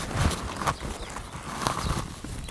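A young two-year-old horse shifts its hooves on the ground while being cinched and saddled, giving close, irregular thuds and clops amid quiet handling noise.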